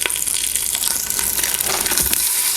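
Beef searing in an Instant Pot gives off a continuous loud, close sizzle with a crackling, spattering texture throughout.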